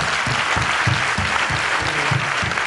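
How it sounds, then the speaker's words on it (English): Audience applause in a lecture hall, a dense, even roar of many hands clapping that holds steady for a few seconds, close and loud, with a faint rhythmic thump beneath. "clap for it, this guy"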